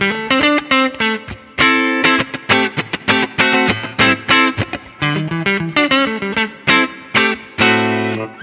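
A Warmoth partscaster electric guitar on its neck pickup plays a fast, choppy run of distorted notes and chords, thick and loud, with short gaps between the bursts.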